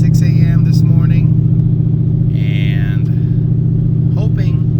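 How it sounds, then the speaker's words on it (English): A drag car idles on a wet street with a deep, loud, lumpy engine burble holding steady throughout, while someone talks over it close to the microphone. "Trying to get you some video of this car launching"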